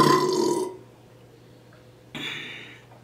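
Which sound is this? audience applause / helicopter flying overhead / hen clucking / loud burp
loud burp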